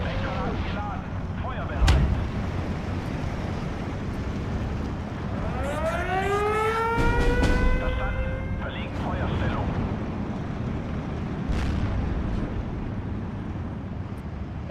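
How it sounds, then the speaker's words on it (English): Artillery fire in the WW2 real-time strategy game Steel Division: heavy booms and blasts over a constant battle rumble, with rising and falling whistling tones in the middle and scattered sharp reports, while a voice talks now and then. "that artillery is full on now"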